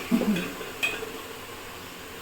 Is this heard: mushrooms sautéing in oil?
yes